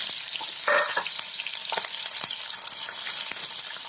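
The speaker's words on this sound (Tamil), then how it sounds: "கொஞ்சம் வெங்காயம், முழு வெங்காயம் தாளிச்சுக்கலாம்." Continuous bright sizzle of onions frying in hot oil for a sambar tempering, with occasional stirring clinks and crackles, close and fairly loud.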